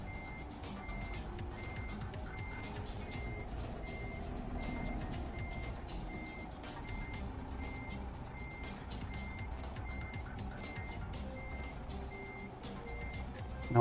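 A DAF truck reverses a trailer with a regular, evenly spaced reversing beep repeating throughout over a low, steady engine rumble, with no talk.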